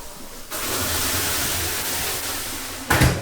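Steam injected into a hot baking oven while deli rye bread goes in, a loud, steady broadband hiss that starts abruptly, holds for under three seconds and ends with a sharp thud.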